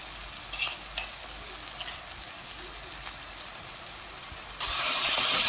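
Tomato with Indian spices frying in a pan for a fish sauce is stirred, with a soft steady sizzle and a few scraping bumps, then a sudden louder rush of hissing steam near the end.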